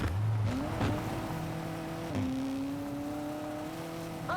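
A Citroen rally car driven in the WRC 5 racing game, engine droning and rising steadily through gear changes with a brief dip, a moderately quiet continuous whine.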